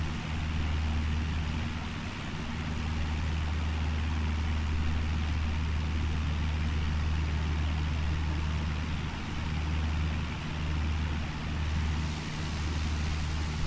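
A light aircraft engine in Microsoft Flight Simulator 2020, flying from Liverpool to Shoreham, drones steadily and evenly at a constant low pitch throughout, with no voices over it.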